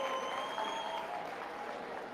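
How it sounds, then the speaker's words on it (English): Students in a classroom give a round of applause, a steady wash of clapping from a group that holds through the whole stretch and eases slightly toward the end, with no talk over it. "Boys and girls, give yourselves a nice round of applause"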